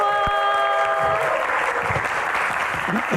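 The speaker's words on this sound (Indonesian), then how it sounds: "Tepuk tangannya mana teman-teman?" Audience applause at an Indonesian comedy show, dense clapping rising after a sustained tone at the start, with a little cheering and voices mixed in.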